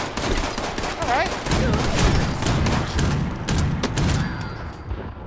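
An Executioner's Gatling Gun, an old-style hand-cranked type, firing in a video game as dense, continuous rapid bursts of gunfire, loud and close, with brief pauses near the end.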